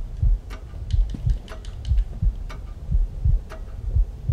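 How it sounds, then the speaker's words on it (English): A heartbeat pounds in the PSVR horror game Paranormal Activity: The Lost Souls, a steady low double-thump repeating about once a second, close and prominent, with faint ticks above it and no talking. "I hear this heartbeat the whole time."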